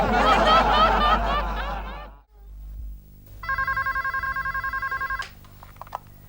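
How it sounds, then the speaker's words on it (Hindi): A telephone rings in a home setting, a bright repeated electronic trill pulsing rapidly for about two seconds, preceded by laughter and a brief pause. "मेरा फोन है। फोन दे दो।"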